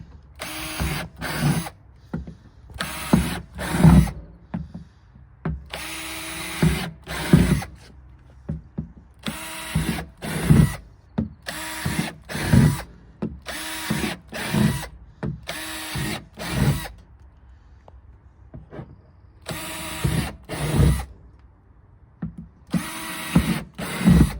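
A power drill whirs in short repeated bursts, starting and stopping over and over as it bores drainage holes, loud and close with pauses between.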